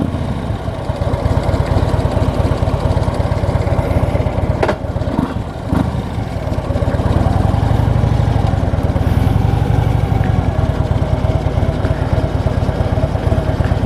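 A 2015 Harley-Davidson Street Glide Standard motorcycle engine idles steadily after being restarted, a continuous low rumble throughout with a brief blip of louder activity near the middle, no talking.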